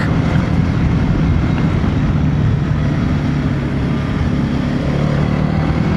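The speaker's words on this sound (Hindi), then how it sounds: "ड्यूअल मफलर एग्जॉस्ट सिस्टम है, साउंड अच्छी निकल के आ रही है।" A TVS Apache RTX 300 adventure motorcycle with a dual muffler exhaust rumbles low and steady while being ridden, its engine note blended with constant wind rush and no talking.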